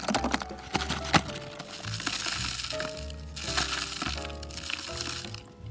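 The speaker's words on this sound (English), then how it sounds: "we'll start adding our soil" Potting soil poured and scooped into a glass moss terrarium, gritty crunching and trickling rustles in uneven bursts with a few sharper knocks against the container, close and without talk.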